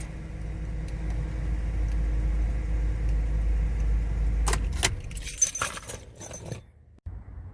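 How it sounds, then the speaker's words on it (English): A Ford Crown Victoria idles with a steady low rumble until the engine is switched off, and keys jangle loudly in the ignition as it cuts out, leaving near silence. "Alright, now we'll turn the car off."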